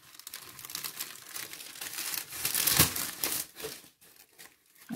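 Baking paper crinkles and rustles while a loaf of potato sourdough bread is turned out onto it, a continuous close crackling with a louder crumple midway and no talk.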